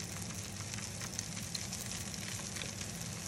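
Stuffed courgette flowers deep-fry in a hot fryer, a steady dense sizzle and bubbling hiss held at an even level throughout with faint pops, close and without talk.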